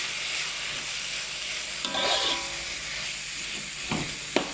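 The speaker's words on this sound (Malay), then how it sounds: "Dan kita tumis." Grated coconut with dried chilies sizzles steadily in a pan as it is sautéed, a close, soft hiss with a few brief scraping stirs and clinks and no talking.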